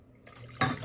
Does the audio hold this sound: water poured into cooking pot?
yes